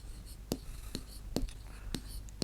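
A pen scratching on paper in short, separate strokes, close and faint, with soft whispery breaths between them.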